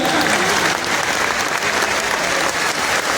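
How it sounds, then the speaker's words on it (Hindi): A large crowd claps loudly and steadily at a mass wedding ceremony for 251 brides at Bageshwar Dham, forming a dense, unbroken wash of applause throughout. "आपकी तालियां बजनी चाहिए"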